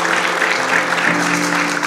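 A congregation in a church service breaks into dense, steady applause that fills the space, with a sustained tone or organ note underneath and faint voices mixed in.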